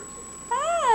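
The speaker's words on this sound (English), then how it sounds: "He's meowing." A pet cat gives a single short rising-and-falling meow indoors near a baby, fairly close and clear over a faint steady background hum.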